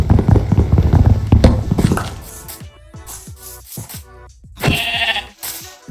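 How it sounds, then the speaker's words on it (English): Sheep bleat in a video game, loud and close: several wavering bleats in quick succession, with a few soft tapping sounds between them. "Come here, sheep."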